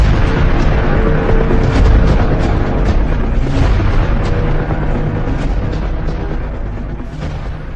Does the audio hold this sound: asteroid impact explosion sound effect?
yes